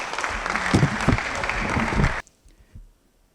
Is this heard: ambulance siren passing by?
no